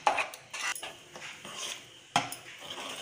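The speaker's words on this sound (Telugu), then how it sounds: "ఇప్పుడు ఇది కొద్దిసేపు అడుగంటకుండా కలుపుకుంటూ ఉండాలి." A spoon scrapes and clinks against a pan while stirring rava kesari of semolina and sugar, in short repeated strokes, close and fairly quiet.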